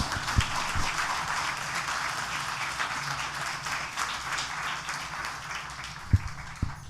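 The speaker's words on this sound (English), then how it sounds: "That deserves a round of applause." Audience at a literary festival panel applauding, a continuous moderate patter of clapping across the room that carries on steadily for several seconds, with a couple of low thumps near the end.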